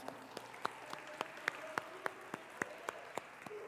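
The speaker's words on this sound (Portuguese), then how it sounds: "pode aplaudir, é para Jesus" Slow, rhythmic clapping in a church service, evenly spaced single claps at a quiet level, with faint murmuring and tones underneath.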